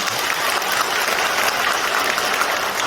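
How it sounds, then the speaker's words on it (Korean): Steady, dense applause from an audience at a political party members' training event at a civil defense education hall in Gumi, sustained and even throughout without breaks. "여러분 이렇게 일 열심히 하시는데 박수 한번 쳐주셔야겠죠."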